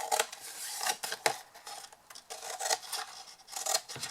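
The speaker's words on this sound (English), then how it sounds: "So in your 4 corners we're going to cut wedges." Scissors snip wedges into the corners of a card box, a series of short, crisp cuts in uneven bursts, close by and fairly quiet with no talking.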